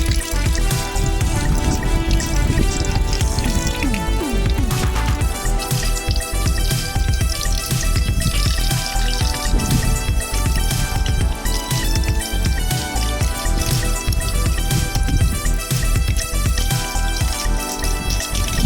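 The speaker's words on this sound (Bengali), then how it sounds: "দেখো আমার মাছ কাটা হয়ে গেছে এগুলো সুন্দর করে ধুয়ে নেব" Cut tilapia pieces being washed by hand in water, with continuous splashing, sloshing and dripping, loud and close throughout.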